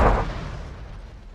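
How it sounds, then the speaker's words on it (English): A bomb dropped by a Stuka dive bomber in Panzer Corps 2 detonates in a single deep, booming blast that fades out over about a second. "So drop a bomb there."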